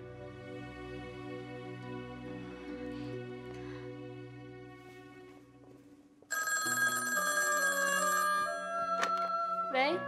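A telephone rings in a Chinese drama scene, its bright electronic tone starting loudly after a softer musical passage and sounding for about two seconds before the line cuts.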